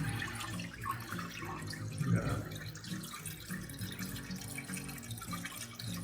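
Steady water spraying and splashing into a fish breeding tank, a continuous hissing wash with bubbling underneath, moderately quiet and close.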